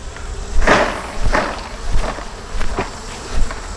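Honeybees shaken from a hive frame into a tub for a mite test buzz in a close, dense drone, with several swelling bursts of humming as the insects tumble and swarm about.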